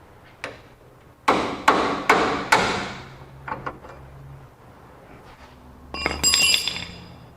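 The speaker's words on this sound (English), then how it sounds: "I'm going to use a pickle fork to separate this joint here." A hammer strikes a pickle fork to split a steering joint on a 1994 Chevrolet Suburban idler arm, giving several sharp metallic bangs in a cluster, then lighter taps and a final burst of ringing clinks.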